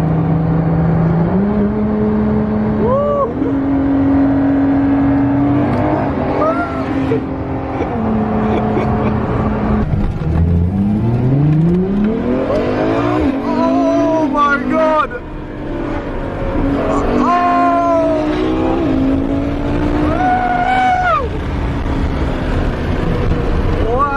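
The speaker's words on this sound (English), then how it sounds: "Bugatti versus LaFerrari." A Bugatti and a Ferrari LaFerrari racing at a desert supercar event, with loud rising engine revs, gear changes and sweeping whines repeating over about twenty seconds, while people talk over the engines.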